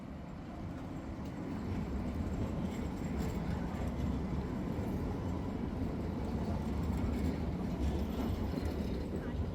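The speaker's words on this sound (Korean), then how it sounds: "이 트램이 이렇게 아야소피아 앞으로 다니는데" A continuous low rumble of a tram rolling past in front of Hagia Sophia in Istanbul, steady and fairly close, with faint street noise and no clear talk.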